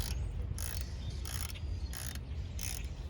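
A socket wrench turning a bolt on the power steering pump of a 2007 Cadillac DTS. Close, regular bursts of ratcheting clicks, about every half second over a low mechanical rumble.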